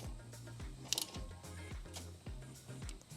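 Ratcheting as a new wheel stud is cranked into a Subaru BRZ hub: repeated clicking pawl strokes in a steady rhythm, close and moderately quiet, with a brief sharper metallic tick partway through and no talking.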